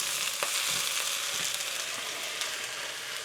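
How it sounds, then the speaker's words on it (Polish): Vegetables for Chinese-style fried noodles sizzle and crackle steadily in a hot pan, with occasional soft stirring sounds and no talking. "Jeszcze trochę smażę i dodaję czosnek."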